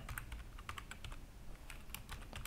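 Computer keyboard keys tapped in a fast, steady run of close, crisp clicks while code is entered, with no voice.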